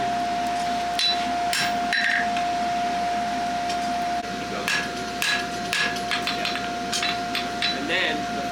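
A farrier's hammer strikes a horseshoe during a shoe-building lesson, with sharp metallic hits landing in an irregular rhythm, close and clear. A steady electronic tone runs underneath throughout.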